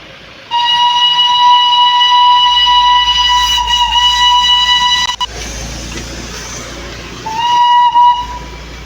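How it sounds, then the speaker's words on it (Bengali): The Darjeeling toy train sounds a loud, sustained whistle lasting about five seconds, followed after a pause by a second, shorter blast, heard close and alone. "আমার সাইডে আছে টয় ট্রেন, দেখো।"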